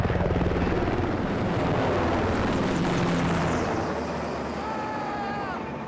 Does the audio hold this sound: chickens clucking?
no